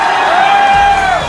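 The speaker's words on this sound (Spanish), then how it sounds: "¡Fuerte el aplauso para" A loud crowd cheers with whoops and shouting at a Tour Colombia stage award ceremony honouring cyclist Rigoberto Urán, a sustained roar throughout.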